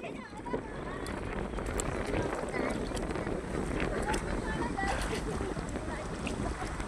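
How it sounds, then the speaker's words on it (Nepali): Wind gusts steadily across open rice paddy fields during monsoon planting, a continuous rushing roar buffeting the microphone, with people talking faintly beneath it. "हावा चल्यो दिन शीतल छ है"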